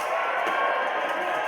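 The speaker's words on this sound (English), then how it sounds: "Let's give them a cheer." A crowd cheers steadily at a women's longsword bout in a lightweight profight tournament, a dense, sustained wash of voices without breaks.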